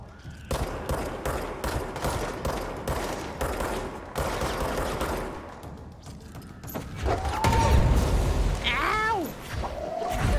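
Gunfire in the action game Control, a rapid string of shots and thuds up close, then a deeper blast and rumble, with warbling effect tones near the end.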